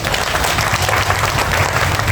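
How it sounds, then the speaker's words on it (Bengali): A crowd at a party workers' conference in Gulshan–Banani, Dhaka, bursts into loud, dense applause that holds steady for a couple of seconds. "আশা করি আপনাদের একটা বড় হাততালি আমি চাই"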